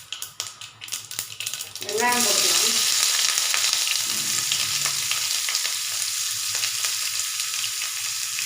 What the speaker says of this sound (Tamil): இதில் வந்து ஆயில் விட்டுக்கலாம் இப்போ வந்து கடுகு உளுத்த பருப்பு போட்டுக்கலாம்